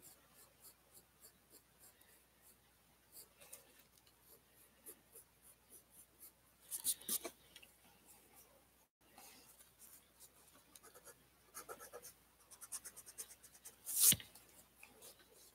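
Pencil or pen drawing on paper, a steady run of soft, close scratchy strokes in short repeated bursts, with a few louder rustles and one sharp swipe near the end.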